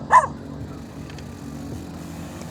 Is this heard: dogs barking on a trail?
yes